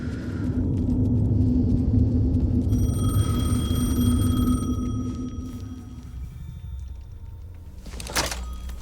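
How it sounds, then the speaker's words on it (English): A telephone rings with a steady electronic tone for a couple of seconds over a low background rumble, followed by a short thud. "The phone again."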